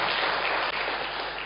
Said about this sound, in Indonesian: Tepuk tangan bagi Tuhan kita yang ajaib